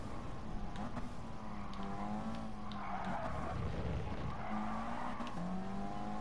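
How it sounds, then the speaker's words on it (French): In the racing game GT Sport, a Nissan 180SX with boost brakes hard on a circuit, its droning engine tone dropping in pitch as the tires squeal and skid in a long smeared screech before it picks up again. "Ouh là, gros freinage."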